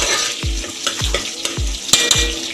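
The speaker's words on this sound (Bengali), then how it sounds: "টমেটোটা মোটামুটি ভাজা ভাজা হয়ে গেছে।" Tomatoes frying in a pan for chicken korma, a continuous loud sizzle with repeated stirring scrapes, about four strokes at an even pace, no voices.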